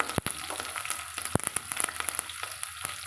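Green chillies and curry leaves fry in hot oil for mutton biryani, giving a steady close sizzle with a few sharp pops and crackles spread through it.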